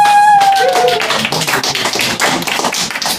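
An audience at a comedy show in Rotterdam breaks into close, lively applause for a comedian, a dense burst of many hands clapping that carries on steadily after a brief tonal sound at the start.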